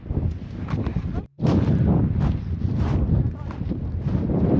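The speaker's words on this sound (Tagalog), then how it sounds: "Hangin lang." Strong wind buffets the microphone in loud, rumbling gusts beside frozen Abraham Lake, briefly dropping out for a moment before roaring back.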